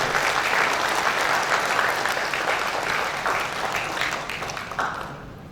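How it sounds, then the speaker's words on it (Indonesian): An audience at a school parenting event and open house at Sekolah Alam Karawang claps to welcome a speaker, dense sustained applause that gradually fades toward the end. "Mari kita sambut dengan meriah dengan tepuk tangan Ustaz Muhammad Ferus."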